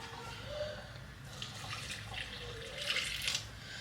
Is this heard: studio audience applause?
no